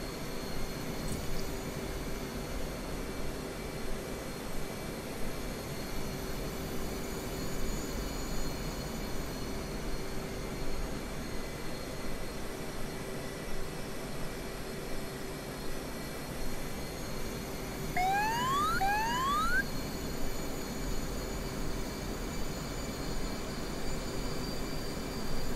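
In the DCS flight game, an aircraft comes in to land with gear and flaps down, a constant droning roar with a steady hum, joined near the end by a couple of brief rising tones.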